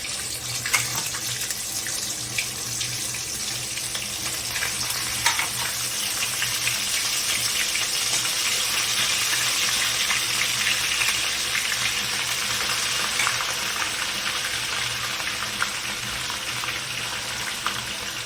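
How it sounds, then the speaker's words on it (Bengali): Mutton frying in oil in a wok: a steady close sizzle and crackle of hot oil that holds evenly throughout, with occasional sharper pops and a faint low hum underneath. "তেলের ভেতরে মটনটাকে দিয়ে দেওয়া হচ্ছে।"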